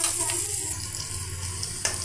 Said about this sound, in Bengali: পেঁয়াজটার সাথে আমি লবণটা দিয়ে দিব, এতে পেঁয়াজটা দ্রুত ভাজা হয়ে যাবে।